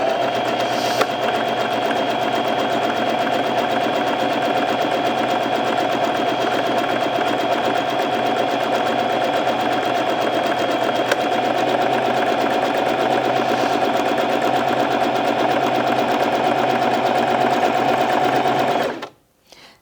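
Bernette 05 Crafter sewing machine stitching continuously at a steady speed, a close, even motor hum with rapid needle chatter that runs for nearly twenty seconds and then stops abruptly.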